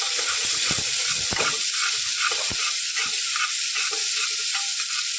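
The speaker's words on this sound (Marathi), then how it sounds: "आता हा कांदा गुलाबी कलर येईपर्यंत आपण परतून घेतो" Onion sautéing in ghee for paya soup, a steady broadband sizzle with several sharp clicks and scrapes of stirring in the first half, close and continuous with no voices.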